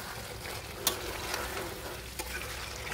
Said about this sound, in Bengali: ঘিটা দিয়ে ভালো করে নাড়াচাড়া করে